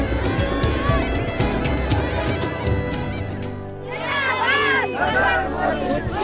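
A large crowd gathers at a Narendra Modi rally in Pithoragarh, a loud, dense roar of chatter and cheering that swells and shifts, with voices rising together near the end.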